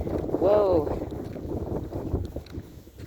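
Wind gusts buffet the microphone on a slushy, snowy December walk outdoors, a low rumbling roar that swells and fades under a person talking.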